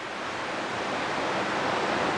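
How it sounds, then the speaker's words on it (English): Ocean waves crash on Condado Beach in San Juan, heard from an ocean-view studio as a steady, unbroken wash of surf, moderately loud and without talk. "I hope you can hear the waves crashing"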